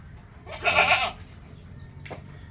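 Native goat for sale on a farm, one loud bleat close by followed by a shorter, fainter second bleat, with quiet background and no speech.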